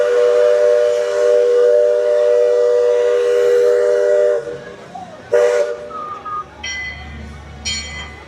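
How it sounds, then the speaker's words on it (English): Steam train whistle from the opening float of a Disney parade at Magic Kingdom, a loud sustained whistle blast lasting about four seconds, followed by crowd noise and brief voices. "Steam whistle."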